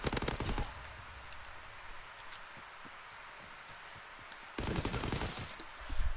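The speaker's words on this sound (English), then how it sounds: "Did Call of Duty register that I had shot my gun there?" Rapid bursts of automatic gunfire from a gun in Call of Duty WWII, a loud rattling volley at the start and another near the end, with quieter scattered shots and rustling in between.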